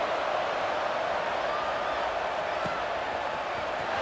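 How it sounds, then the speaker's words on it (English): A packed stadium crowd at an Ohio State versus Miami college football game, tied in the fourth quarter before a kickoff, sends up a steady, dense roar that fills the whole stretch without letup. "this crowd is buzzing after that last score"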